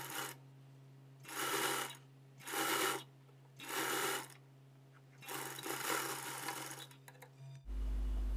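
A sewing machine stitches the front piece of a blouse in four short even bursts, then one longer run, close and steady with quiet gaps between. It ends with a soft handling thump.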